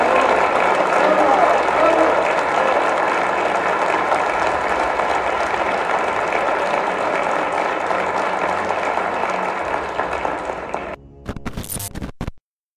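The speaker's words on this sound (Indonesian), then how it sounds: "Presiden Prabowo mendapatkan aplaus atau tepuk tangan dari parlemen Turki" Members of the Turkish parliament applaud in a large chamber, a dense sustained wash of clapping running for about eleven seconds before breaking off, with a few scattered claps and a bit of noise at the end.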